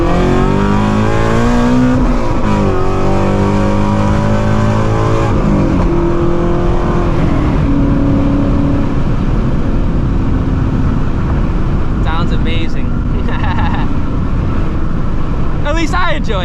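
A Shelby GT350 Mustang's exhaust roars as it revs and accelerates, loud and close, with rising and falling engine tones and brief crackles near the end, a voice speaking over it.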